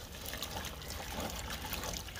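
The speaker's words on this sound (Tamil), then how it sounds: "தண்ணி வடிச்சுட்டு சுத்தமாக வாஷ் பண்ணிக்கோங்க." Soaking water drains off and the soaked snack ingredients are washed, giving a continuous close trickle and pouring of water with light splashes and no speech.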